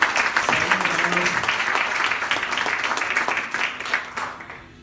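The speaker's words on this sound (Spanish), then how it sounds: "¿Cuánto le damos un aplauso al Señor por eso?" A church congregation applauds during a Spanish-language sermon, giving steady, lively clapping for several seconds that fades quickly at the end, with faint voices underneath.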